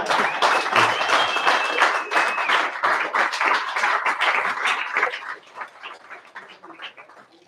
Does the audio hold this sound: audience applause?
yes